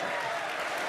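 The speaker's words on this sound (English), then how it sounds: "you can hear the crowd" A crowd at the Red Bull Wololo Londinium playoffs, an Age of Empires tournament event, cheers and applauds in a steady, dense roar that fills the whole short moment.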